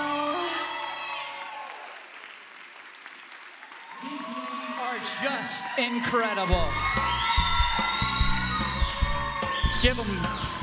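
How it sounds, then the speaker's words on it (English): Pageant audience at a volunteer scholarship finals claps, whoops and cheers, building from scattered noise into loud sustained applause with shrill cheers, while a host speaks over it and music plays. "Give them another round of applause."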